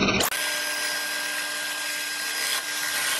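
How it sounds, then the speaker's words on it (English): A drill press whines up fast, then holds a loud, steady high-pitched grinding drone as the bit cuts into solid oak, with no talking. "I blitzed most of the waste out with the drill press"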